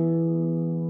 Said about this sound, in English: so I call it my high strung guitar